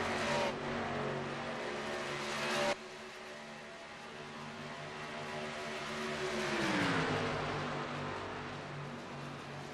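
A pack of four race cars roars past at the ERA Coke 600, engines loud and steady, then one note swells and drops as the group sweeps by.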